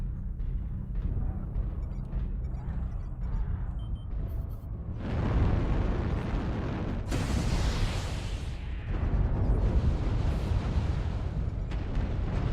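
Artillery explosions in Mechwarrior Online, a run of deep, heavy booms and rumbling blasts that turn louder and denser partway through, close by and with no talk.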